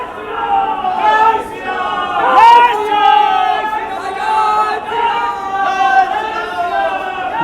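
A crowd chatters on platform one at Murshidabad Junction railway station, where the Sairang Express has pulled in; a nearby voice speaks loudly over a continuous murmur of many people.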